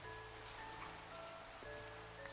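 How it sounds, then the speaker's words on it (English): Rain falling in the Minecraft Pixelmon mod on a multiplayer server, a soft, steady hiss that runs the whole time beneath faint sustained background tones. "Why is it always raining in this server?"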